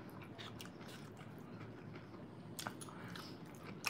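Quiet, close-up chewing of beef and broccoli, soft wet bites and mastication running steadily with a couple of slightly crisper crunches, no talking.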